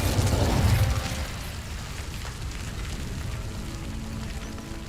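An Incendio fire spell cast in Hogwarts Legacy, opening with a loud low burst of flame in the first second, then fading into a steady crackling rumble that carries on quietly to the end.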